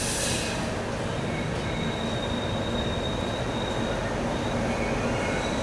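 Rajdhani Express pulling out of Dhanbad Junction, heard from inside the coach as a steady, loud rumble of wheels and rails with a faint high whine running throughout.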